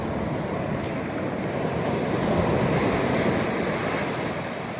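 Surf waves break and wash steadily on a beach during sea fishing from the shore, a continuous roar of rolling water with wind buffeting the microphone.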